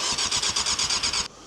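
Engine of a Yamaha YZF600R sports bike cranking or running in a rapid, steady pulsing rhythm, loud and close, then cutting off abruptly near the end, leaving a quieter residual noise.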